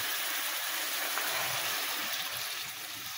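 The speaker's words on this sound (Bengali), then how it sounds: "এবার আমি পরিমাণ মতো জল দিয়ে দেব।" Water poured into a pan of cooking vegetables in a home kitchen gives a steady, close, broadband hiss and gush that runs evenly throughout, with no voices.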